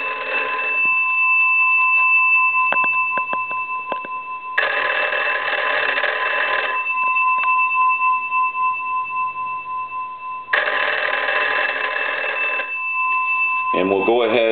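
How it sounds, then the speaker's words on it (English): An old Wesco wood wall telephone under repair rings in two long mechanical bell bursts separated by a pause, loud and close, with someone talking between the rings. "I'm going to go ahead and ring the"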